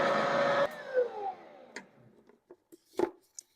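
Stand mixer mixing whole wheat bread dough with yeast, a loud whirring motor that cuts off after under a second, followed by scattered clinks and knocks.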